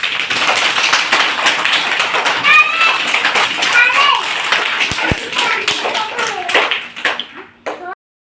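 Children in a village primary-school classroom clap their hands in a dense, ongoing patter of many small claps, with children's voices chattering and calling out throughout until it stops abruptly near the end.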